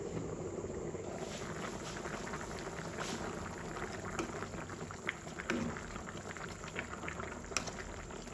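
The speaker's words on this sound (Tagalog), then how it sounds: "And we're going to boil." Water with lemongrass boils steadily in a cooking pot, a continuous soft bubbling hiss with occasional pops, quiet and close, with no talking.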